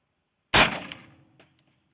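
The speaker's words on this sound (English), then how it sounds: "So let's set up and go shoot our next one. Up next is our 50 grain Frangible." A single loud, sharp gunshot firing a 50 grain frangible varmint bullet, with a quick decaying echo and a faint later impact sound, no talking.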